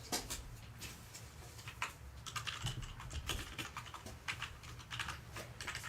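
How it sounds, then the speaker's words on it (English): Steady typing on a computer keyboard, quick irregular key clicks running throughout at close range with no voices over it. "I'm just typing it ready for someone to claim it."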